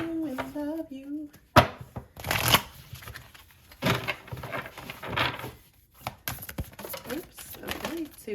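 Oracle cards being shuffled by hand: bursts of crisp riffling and flicking with soft taps and handling noises between them, heard close, with a voice speaking briefly at the start and near the end.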